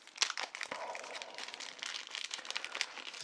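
A plastic bag holding parts of a 1:87 scale model kit crinkles close up in continuous, rustling handling noise with small sharp crackles and no speech.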